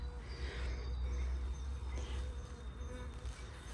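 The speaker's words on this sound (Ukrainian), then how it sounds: "ну ви не побачите, літають е, ці бджоли" A continuous low buzzing drone of bees around flowering shrubs in a park hums steadily throughout, with faint higher whines weaving over a constant background hum.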